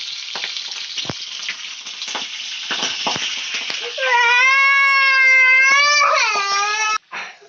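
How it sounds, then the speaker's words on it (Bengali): Panch phoron spices sizzle steadily in hot oil for a few seconds. Then a loud, wavering, high whining tone rises over the frying and holds before it cuts off abruptly. "ফোড়নটা আমার ভাজা হয়ে গেছে"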